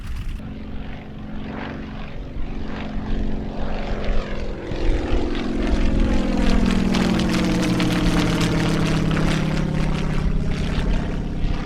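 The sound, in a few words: German propeller planes flying overhead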